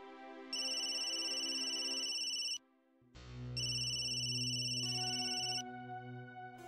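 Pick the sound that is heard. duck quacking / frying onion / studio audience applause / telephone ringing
telephone ringing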